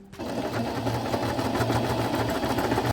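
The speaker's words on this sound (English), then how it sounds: "I sew a decorative stitches around the perimeter." A sewing machine stitches decorative stitches around the perimeter of a bed runner, a steady, close, rapid mechanical whirring and clicking that runs continuously.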